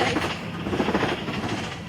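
A Roblox train runs steadily along its rails in a build-a-train game, a continuous close rumble with faint clickety-clack and no talk over it.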